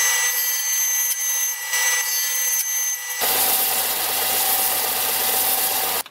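Wooden parts for a book holder cut with a saw guided by a small positioning jig, a loud continuous close grinding buzz, rougher and fuller in the second half, with no talking.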